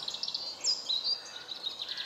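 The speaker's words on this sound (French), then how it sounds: "Écoutez les petits oiseaux." Small birds chirp in a quiet forest, with bright, high chirps and tweets scattered throughout, fairly faint.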